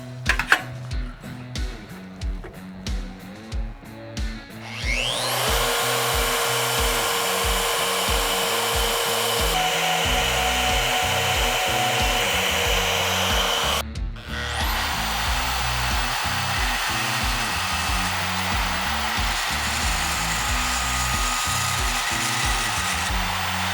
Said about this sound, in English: use that pilot hole for the centering pin on the annular cutter